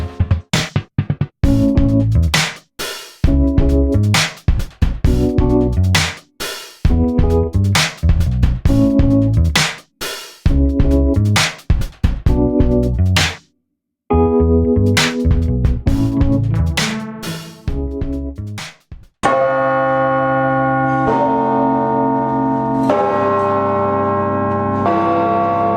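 Church bells peal loudly from inside the Riverside Church bell tower, a dense run of rhythmic overlapping strikes that pauses briefly, then swells into a sustained ringing wash of many tones.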